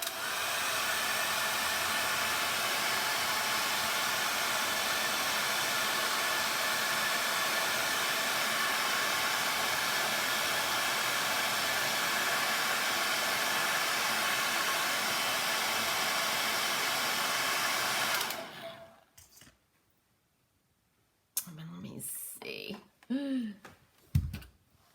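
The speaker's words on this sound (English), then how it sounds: "blow dry. With my fancy blow dryer." A hair dryer blows steadily at close range while drying decoupaged paper on a round shape, a loud, even whoosh for about eighteen seconds before it shuts off, followed by a pause and then brief rustling and a voice.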